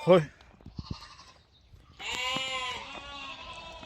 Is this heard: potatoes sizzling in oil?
no